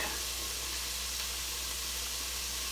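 Minced garlic sizzles in a hot pot for chicken rice soup, giving a steady, even hiss that stays constant through the short stretch, with no talk.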